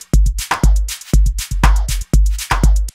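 A punchy electronic drum loop in which claps and snares are nudged slightly ahead of and behind the grid, giving a looser, swung feel over steady deep kicks and bright crisp hits.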